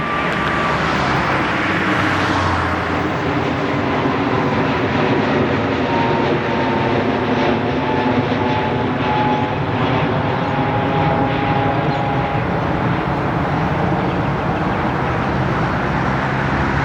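A JetStar Airbus A320neo jet departs runway 14 at Gold Coast, bound for Queenstown, with a loud, sustained engine roar and rising whine that stays steady and near throughout, with no voices.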